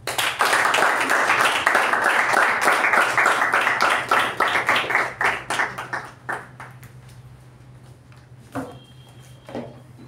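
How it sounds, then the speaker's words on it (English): Toastmasters club audience at a meeting welcomes the Toastmaster with applause: a lively burst of clapping that thins out after a few seconds into scattered individual claps, ending with a few isolated claps over a low steady hum. "please welcome with a huge round of applause"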